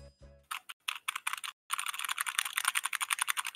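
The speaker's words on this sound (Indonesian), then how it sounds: "cuba tekan typing keyboard kau banyak-banyak" Rapid clacking of computer keyboard keys, close and fairly loud, starting with a few short bursts and then settling into fast, continuous typing.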